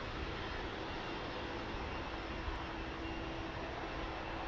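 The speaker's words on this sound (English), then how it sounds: "Gracefully making its way back in this evening on the Spitfire" A Spitfire arriving at East Midlands Airport in the evening, a steady distant propeller engine drone over broad airfield noise, fairly faint and unchanging.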